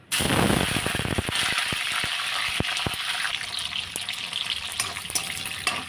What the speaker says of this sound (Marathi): आता त्यामध्ये फ्लावर घ्यायचं आहे फ्राय करायसाठी तर फ्लावर मी फ्राय करून घेणार आहे